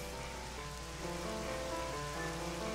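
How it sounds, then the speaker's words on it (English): Steady rain falls in The Legend of Zelda: Twilight Princess HD, a dense, continuous patter that holds at an even level throughout, with no voices over it. "I just hate this rain."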